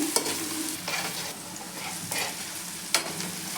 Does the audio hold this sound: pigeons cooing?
no